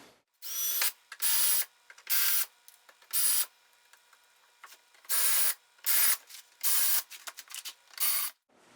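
Pop rivets are drilled out of a Triumph Spitfire body panel in a series of short, loud, whirring bursts separated by quiet gaps, each about half a second long, with no voices.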